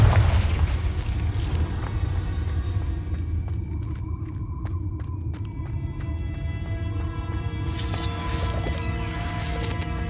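Confringo fire spell explosion in Hogwarts Legacy, opening with a loud rumbling boom that settles into a sustained fiery roar with ringing tones and a sharp crackling flare near the end.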